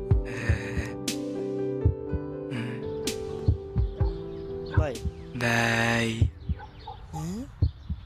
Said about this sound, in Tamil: நான் ட்ரீட்மெண்ட்லாம் முடிஞ்சதுக்கப்புறமா ஹார்ட் பீட் சவுண்ட் கேட்குது